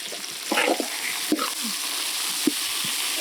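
Tomatoes dropped onto sautéed onions in a pan for Chettinad kara chutney set off a steady, close sizzle with a few soft stirring knocks and scrapes.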